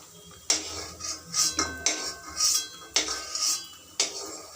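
Golden-fried ripe mango fritters lifted from a pan of shallow oil, with a series of sharp metal utensil clinks and scrapes against the pan at a steady pace, close and with no talk.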